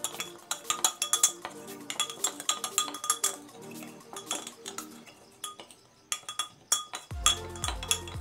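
A spoon stirs a yellow chemical mixture of sodium hydroxide and indigo paint inside a glass container, giving a steady run of close, bright clinks and taps with short pauses, then a low rumble near the end.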